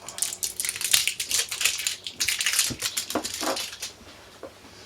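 Scissors snip and crunch through crinkly packaging in a quick run of sharp, close cuts and rustles that taper off near the end.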